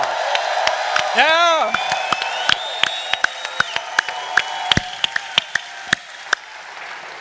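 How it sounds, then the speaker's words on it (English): Audience at a presentation cheering with a rising whoop and a shout, then scattered sharp claps that thin out into individual slaps, fairly close and loud, with brief voices mixed in. "So let's give them a round of applause."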